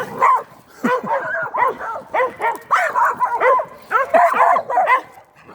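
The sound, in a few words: dogs barking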